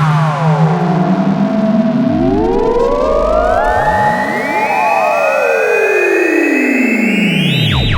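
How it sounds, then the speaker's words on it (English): Apollo View Manic synth module in ring modulation mode, producing loud metallic tones that glide up and down in crossing sweeps, siren-like, with no talking. "Now with bipolar mode, now we're in ring modulation."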